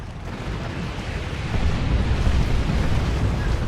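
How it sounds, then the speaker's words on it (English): Rocket explosions in the strategy game Dawn of War 2, heard as a dense rumbling blast that swells louder partway through, with no voices. "There's all those rockets."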